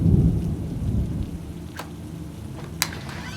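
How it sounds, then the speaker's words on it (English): Heavy rain hisses steadily while a deep rumble of thunder rolls at the start, followed by a few sharp drips or cracks. "It was raining heavily outside,"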